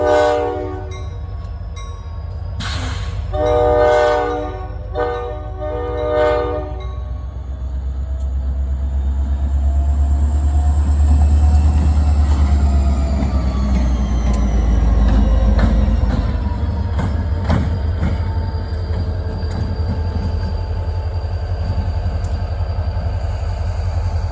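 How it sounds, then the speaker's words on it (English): A New York, Susquehanna and Western freight train works hopper cars on a former rail main line, its horn sounding in repeated blasts before a loud, steady rumble of engine and rolling cars builds and holds close by. "So we'll catch them cutting the hoppers off on the former O&W Utica Main."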